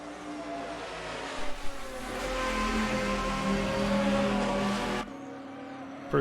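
A GT race car in the video game Assetto Corsa at Zhuhai circuit revs through its gears near the finish line, a steady engine roar with brief tire noise before cutting off abruptly.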